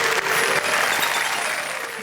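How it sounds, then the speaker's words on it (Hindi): An audience applauds a poet at a Hindi poetry recital on stage, a dense, even burst of clapping that holds steady for about two seconds, loud and close. "जोरदार तालियां।"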